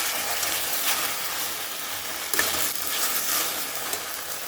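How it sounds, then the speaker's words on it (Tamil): Okra frying for poriyal in a pan, a continuous soft sizzle with occasional scraping stirs, one sharper knock midway, no talk. "வெண்டைக்காய் நல்லா வதங்கட்டும்"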